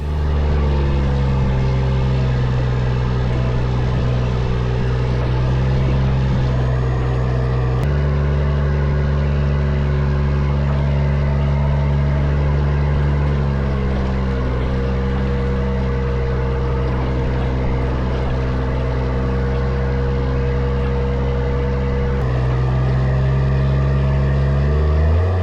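A tow truck climbs a mountain road toward Mount Lemmon's summit with a flipped Jeep slung behind the wrecker, its engine droning steadily and loudly throughout, with a brief shift in pitch partway through.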